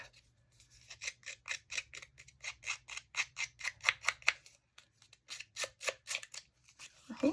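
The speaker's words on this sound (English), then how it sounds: "I'm just grabbing my little scissors. I'm going to rough it up." Small scissors snip paper repeatedly, a quick rhythmic series of crisp cuts near the listener with a couple of brief pauses.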